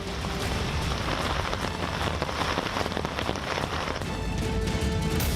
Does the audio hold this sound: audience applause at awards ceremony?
no